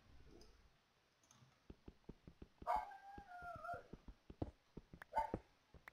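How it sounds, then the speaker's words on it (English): Indoors, a dog lets out two short, whiny barks a few seconds apart, faint and somewhat distant, among a steady run of sharp ticking clicks. "And the dog decides to start barking for no apparent reason."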